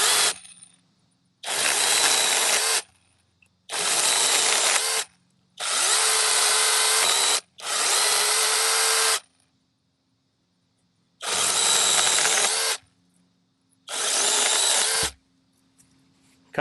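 An ORBLON 6-inch brushless mini cordless chainsaw cuts through small branches in seven loud, close bursts of high buzzing, each lasting one to two seconds, with short quiet pauses between them.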